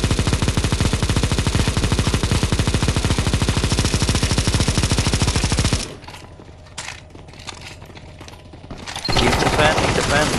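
Rapid automatic gunfire from a CS:GO zombie escape mod match, loud and sustained for about six seconds, then a lull with scattered shots before heavy firing resumes.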